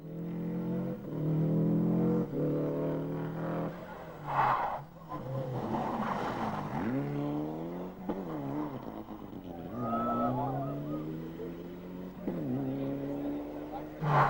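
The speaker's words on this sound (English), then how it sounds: "Here's Joe heading off on stage 2, only to slide off up on the mountain and be unable to continue." A rally car sets off on the second stage of the 1996 Ohakune Rally on a mountain road, its engine revving up and down in repeated surges with bursts of tyre scrabble, heard at moderate distance.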